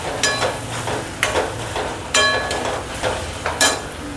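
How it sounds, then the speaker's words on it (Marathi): A spoon stirs ridge gourd thecha frying in a pan after coriander goes in, with soft scraping and sizzling broken by several sharp knocks against the pan. "आता मी कोथिंबीर टाकते। परत चांगलं मिक्स करून घ्यायचं।"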